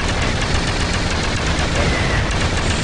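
Dense, continuous gunfire rattles in Duke Nukem Forever, loud and close, as enemies are shot in a rapid unbroken burst.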